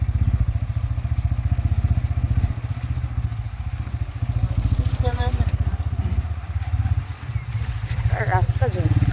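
Motorcycle riding along a muddy, waterlogged road in heavy rain, its engine a steady close low throb throughout, with splashes and rattles over the top and people talking nearby.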